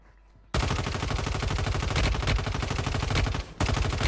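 Sustained automatic gunfire in Warzone Mobile, shots fired through a wall, a loud, rapid, steady stream of rounds lasting several seconds with one brief pause near the end.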